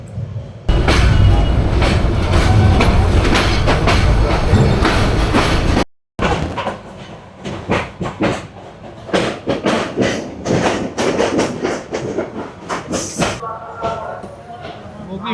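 The Mahanagar Provati train runs from Dhaka toward Chattogram. A heavy, steady rumble fills the first half, breaks off briefly, then gives way to uneven clattering thumps and rattles of the carriage on the rails, heard from close by.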